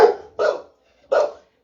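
Dogs barking inside a house, three loud close barks in quick succession with short silent gaps between them.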